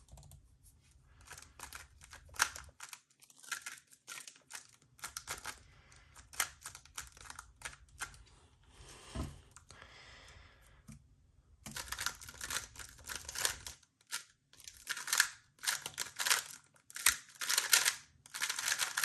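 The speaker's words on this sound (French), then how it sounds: "Je vais mélanger le cube." A Rubik's cube being scrambled by hand, a run of quick plastic clicks and twists in bursts, close and fairly quiet, with a short pause partway through and no talking.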